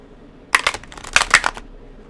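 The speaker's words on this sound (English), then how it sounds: "Try not to make too much noise when I shuffle the cards" Tarot cards are shuffled in two quick riffling bursts, close and crisp, with quiet before and after.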